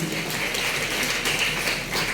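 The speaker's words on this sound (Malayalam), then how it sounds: "നമുക്ക് നല്ലൊരു കയ്യടി കൊടുക്കാം." Audience applause fills a hall at a memorial gathering, a steady, dense patter of clapping held at an even, fairly loud level for about two seconds with no voices over it.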